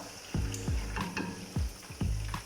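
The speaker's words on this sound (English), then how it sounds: "We need to really fry it well" A turkey party stew fries in a pot with a steady sizzle, broken by several dull knocks and scrapes as it is stirred at a slow, uneven rhythm. The sound is close, and no one speaks.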